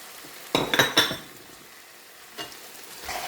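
Green chilies drop into hot oil in a pan while a utensil stirs them, making a burst of sizzling and scraping clinks near the start, then a quieter fry with a few more stirring scrapes.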